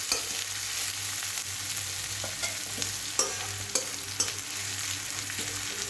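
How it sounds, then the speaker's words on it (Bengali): Onion fries with dried red chili and cumin in a pan, making a steady close sizzle broken by sharp scrapes and clinks as it is stirred. No voices are heard. "পেঁয়াজ দিয়ে ফোড়ন দেওয়ার সময় আমি হালকা একটু শুকনো লঙ্কার সঙ্গে জিরা দিয়ে দিই"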